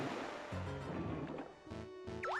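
Mario swims in Super Mario 3D All-Stars with watery splashing and surf-like swishes over steady in-game music, fairly quiet, including a brief rising tonal blip near the end.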